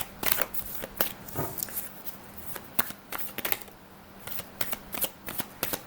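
A deck of tarot cards is shuffled by hand in a quick, papery riffle of repeated flicks and snaps, close and fairly loud, with no voice over it.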